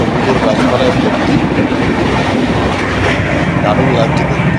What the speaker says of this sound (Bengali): ট্রেনটা বেশ ভালোই স্পিডে যাচ্ছে